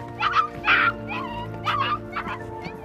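A mother dog trapped with her puppy in a flooded pit cries out in a series of close, high-pitched whimpers and yips, several short bursts with pauses between them, over a low steady background hum.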